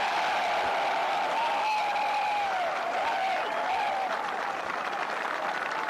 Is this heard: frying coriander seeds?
no